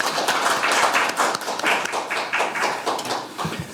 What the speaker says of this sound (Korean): 좌장님과 토론자분들을 큰 박수로 맞아주시면 감사하겠습니다